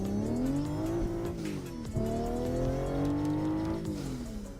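Simulated truck engine from American Truck Simulator, droning steadily with rising and falling revs as the gears shift, loud and continuous with no talking.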